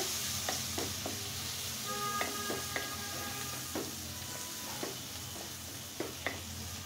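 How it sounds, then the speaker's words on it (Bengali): Quiet, steady sizzling of onion, garlic and green chilli frying, with occasional light clinks and scrapes of a utensil stirring the pan. "এখন আমি খুব সুন্দর করে পেঁয়াজ, রসুন আর কাঁচামরিচটা ভেজে নেব হালকাভাবে।"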